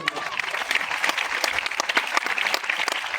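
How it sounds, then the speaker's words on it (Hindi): An audience at a training seminar in Kolkata bursts into lively applause, with sharp individual claps standing out over a continuous, fairly close wash of clapping. "एक जोरदार तालियां तो"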